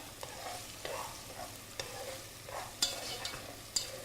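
Chopped onion frying in oil in a pan for Nigerian efo riro spinach stew, a soft steady sizzle with a few sharp spoon clicks against the pan as it is stirred, no talking.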